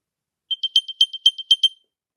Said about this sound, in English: That's what the AirPods sounds like.